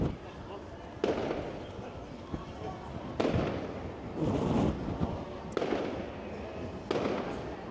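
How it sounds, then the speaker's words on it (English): Fireworks over the Blackpool promenade on New Year's Eve burst in several sharp, separate bangs a second or two apart, each trailing into crackle, moderately distant over a rumbling background with some voices. "there's some fireworks going up on the promenade over there."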